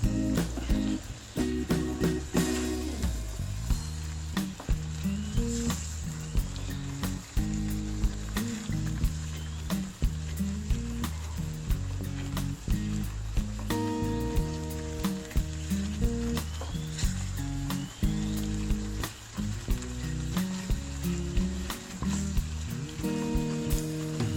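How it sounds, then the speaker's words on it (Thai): Thai red curry paste for a beef shank curry is stir-fried in a pan with a continuous sizzle and crackle, broken by repeated scraping and tapping of a spatula against the pan in an uneven rhythm. "แล้วเราผัด พริกแกงมาได้สักพักหนึ่งแล้วนะครับ"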